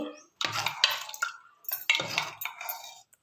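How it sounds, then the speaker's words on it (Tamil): Cooked tomato sambar dal churned in a pot with a wooden churner, giving two bursts of wet scraping and clinking churning strokes, close and fairly loud. "நம்ம போட்டு எல்லாமே மத்து வச்சு நல்லா கடைஞ்சிக்கலாம்"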